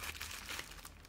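Plastic bags crinkle and rustle continuously at close range while a cosmetics parcel is unpacked, with soft scattered crackles and no talking.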